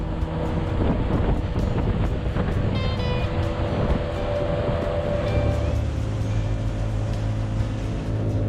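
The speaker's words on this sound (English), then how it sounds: "we were riding a boat out of there." Steady engine drone of a motorboat with constant wind buffeting and water rush, loud and continuous throughout.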